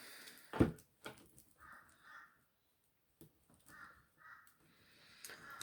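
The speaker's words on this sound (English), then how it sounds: "Oh, the crows are out too." Crows caw in a backyard, giving several harsh, moderately distant calls in pairs and short runs, spaced by quiet gaps, with a sharp nearby knock early on and no voices.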